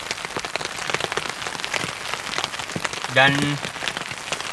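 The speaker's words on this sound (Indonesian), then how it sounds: "Ini cocok banget kondisi lagi hujan kayak gini." Heavy rain drums steadily on a tent in the mountains, a dense close patter that continues throughout, with a brief voice near the end.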